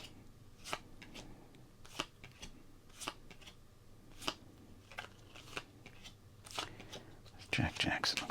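Scissors snip up a thick sports card about as stiff as a credit card, giving a series of sharp, close cuts spaced about a second apart, followed by a louder crunchy burst at the end.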